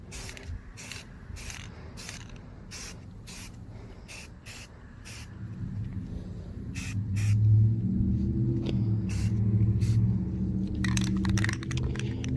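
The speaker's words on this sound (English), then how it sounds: "spray it in a way that way it doesn't really hit the terrain pieces that you already hit" A spray paint can hisses outdoors while miniature terrain pieces are coated, a long steady spray that grows louder midway, with rattling clicks and knocks in the first half and at the end.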